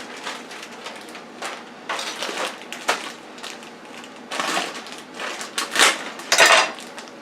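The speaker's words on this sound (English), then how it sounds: "all you have to do is just put them in the pot" Frozen green vegetables tumble into a pot in a series of bright, clattering rattles and crunchy impacts, close and fairly loud, with the bursts growing busier toward the end.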